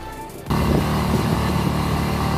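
A motorbike ridden along a concrete road toward Mare Falls starts up abruptly after a quiet moment, its engine then running loud and steady close by.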